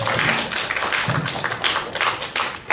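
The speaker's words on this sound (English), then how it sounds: "Let's give a big round of applause" Applause from an audience at a university talk, a dense, steady patter of many hands clapping close by for a few seconds.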